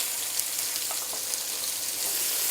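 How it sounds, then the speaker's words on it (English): Chopped onions sizzle in hot chorizo grease in a pan, a steady close crackling fry with small pops throughout, no talking. "Get it sizzling."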